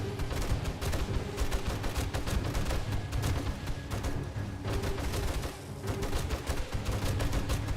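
Cop zombie exploding during a horde night in the video game 7 Days to Die, amid continuous dense gunfire and booming blasts that stay loud and steady throughout, with no pause.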